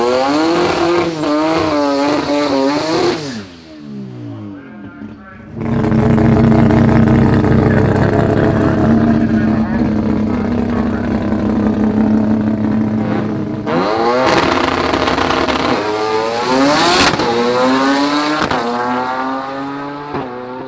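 A street race car with a 6-speed sequential gearbox roars hard at a street racing event, engine screaming and rising through gears with brief drops between shifts, loud and close throughout.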